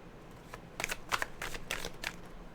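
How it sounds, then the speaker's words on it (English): Tarot cards are shuffled by hand at close range, a series of soft, crisp riffling bursts spread over a couple of seconds. "I'm going to shuffle 3 cards out."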